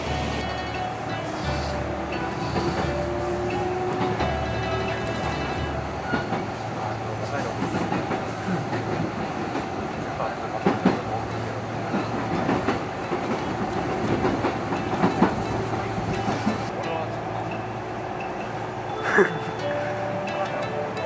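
A Kintetsu semi-express train in southern Osaka rolls along the rails with a steady rumble and occasional clacks of the wheels, the sound continuous and fairly close throughout.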